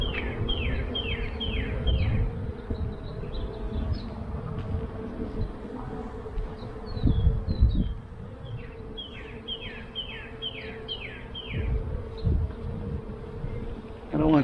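Honey bees buzz steadily around an open hive during an inspection, a dense close hum throughout with a few louder swells, while birds chirp faintly in the background.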